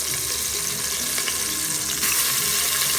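Meat sizzling in a pot with plenty of garlic, a steady loud crackling hiss filling the whole stretch, with a faint clink partway through and a brief louder burst of sizzle near the end.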